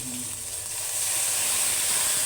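Loud hissing rush of steam as hot water hits a sizzling pan of fried onion, chilli and ginger-garlic paste, swelling and holding strong, close by.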